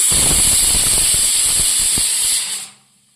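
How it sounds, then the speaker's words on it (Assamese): A pressure cooker cooking rice vents steam in a loud, close, forceful hiss with a rapid rattling pulse underneath, then cuts off abruptly near the end, leaving near silence. "কুকাৰে আমাৰ হুইচেল দিলেই ভাত হ'লেই।"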